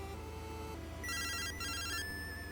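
The Pokegear phone in Pokemon Silver rings with a chiptune electronic trill, two bursts of rapid beeping over steady game background music.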